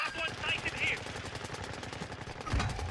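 Rapid automatic gunfire in Modern Warfare 2's Gulag rattles out as a steady stream of shots, loud and close, with players talking over it.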